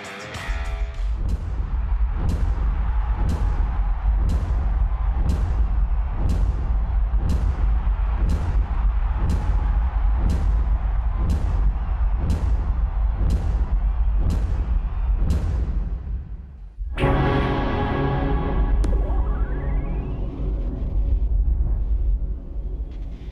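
Caterpillar construction machines start up at a CONEXPO 2020 technology demo with a loud series of regular, booming bursts roughly a second apart, followed by a sustained roar of engines and heavy machinery.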